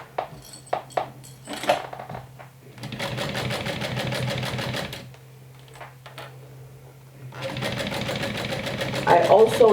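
A sewing machine stitching through thick vinyl for a bag, heard in two long steady whirring runs with a pause between, after some clicks and knocks, with a voice talking over it.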